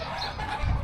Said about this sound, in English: I think people have their chickens in here and stuff like that.